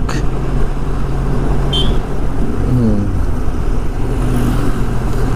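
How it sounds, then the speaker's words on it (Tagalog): Road traffic in Kapakan on a paved but potholed road, a steady rumble of passing cars and engines close by, with a brief horn-like tone partway through and no talk. "Ganito ka traffic sa Kapakan."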